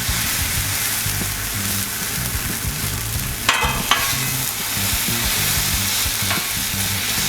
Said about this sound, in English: We're gonna just drop in our chorizo.